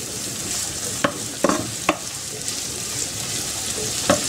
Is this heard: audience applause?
no